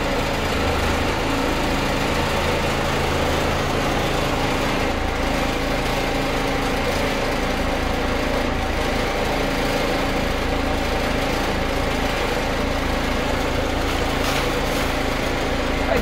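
A 1964 Gillig school bus engine idles steadily and loudly at close range, a continuous droning rumble with no talk over it.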